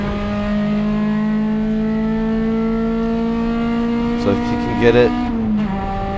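A race car in a USTCC touring car session accelerates out of the last corner onto the oval main straight, its engine a steady, loud, rising drone. A commentator speaks over it, then a brief shift-like break comes near the end.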